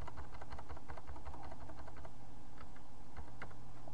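Arrow keys on a computer keyboard are tapped repeatedly, giving a run of light, close clicks at an uneven pace over a steady low hum.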